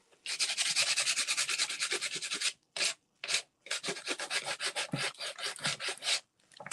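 Coarse sandpaper scrubbing a thrifted planter, a harsh continuous rasp for a couple of seconds, then short separate strokes and a longer rhythmic run of back-and-forth scrapes, close and loud.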